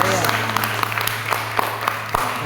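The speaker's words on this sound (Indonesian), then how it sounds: "puji kasih tepuk tangan dong buat Tuhan" A church congregation claps in praise during an evening testimony gathering, a loose patter of many hands with scattered sharper claps, moderately close, with a voice humming and speaking faintly underneath.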